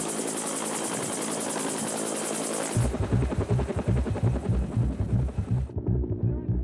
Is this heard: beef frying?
no